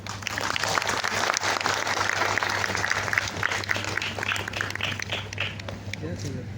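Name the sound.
applause for teachers and students at a school event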